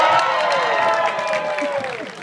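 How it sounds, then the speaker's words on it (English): A big crowd erupts in loud, sustained applause and cheering after a boy's torch act at a Renaissance festival, with shouts and whistles over the steady clapping. "everyone bursts into kind of huge, thunderous applause"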